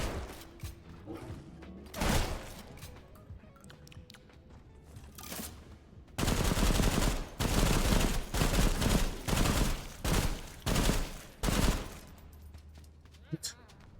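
Rapid bursts of video game gunfire, a dense fusillade that swells loud from about six seconds on and keeps firing in repeated volleys, with mechanical clicks between shots and a person talking underneath.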